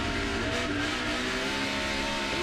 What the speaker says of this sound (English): Watch this thing rev.